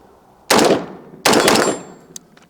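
Two loud rifle shots from a Noveske rifle, roughly three quarters of a second apart, each a sharp close crack with a rolling outdoor echo, followed by faint clinks.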